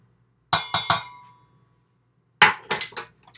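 A spoon clinks sharply against a glass bowl while flour is mixed into vegan avocado chocolate cookie batter, heard as two close bursts of three quick strikes separated by a short pause.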